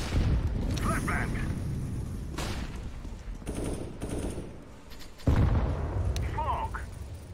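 A flashbang grenade goes off amid CS:GO competitive gunfire on the Nuke map, a sharp burst breaking through dense rattling shots, with a loud bang near the five-second mark and continuous firing around it.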